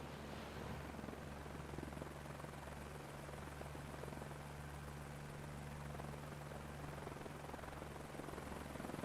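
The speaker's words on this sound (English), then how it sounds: "they will not let me fly the chopper" A helicopter in a video game gives off a steady, faint rotor drone with a constant hum, unchanging throughout with no voices.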